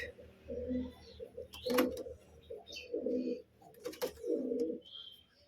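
Pigeons coo close by in soft, rounded phrases repeating every second or so, broken by a couple of sharper clicks or flutters.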